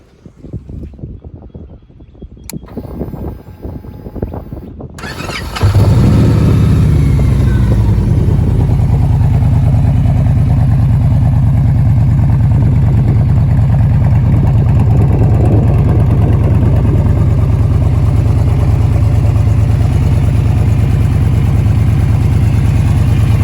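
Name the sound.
2011 Victory Cross Roads motorcycle engine starting and idling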